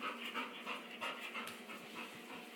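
Spike the dog pants close by in quick, rhythmic breaths that run continuously and fairly softly, with no talking over them.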